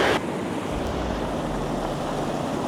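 A river rushes steadily at Laspa in the Johar Valley near Munsiyari, a loud, continuous roar of flowing water with no break.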